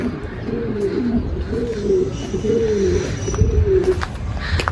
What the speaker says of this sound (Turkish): Bak bizim Hollanda'mız hemen ötmeye başladı.